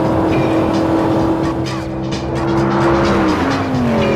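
A Spyker sports car on a hot lap revs loudly close by, its engine note holding and then dropping with a gear change as tires squeal briefly through a corner, with no voices.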